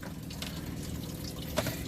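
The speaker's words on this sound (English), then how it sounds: "Go ahead and just pour out your gallon of water" A gallon of water poured into the engine coolant housing of a 1999 Ford Crown Victoria with a 4.6 engine during intake manifold work, giving a steady, close splashing gush with one brief louder slosh near the end.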